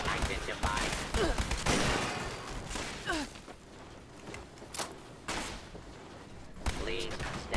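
Laser pistol fire in the game Fallout 76, repeated sharp zapping shots in bursts amid game noise, with a robotic voice speaking over part of it.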